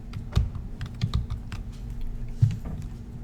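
Keyboard shortcuts typed on a computer keyboard, a few close, sharp key clicks and presses in an irregular rhythm, quiet and with no talk.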